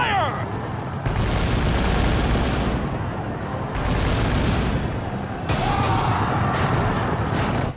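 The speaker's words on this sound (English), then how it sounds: "Triple barrage is going to be effective, I hope." Triple artillery barrage in the Kessen video game: three heavy, rumbling explosion bursts follow one another, each loud and sustained for over a second, with an unspoken lull between them.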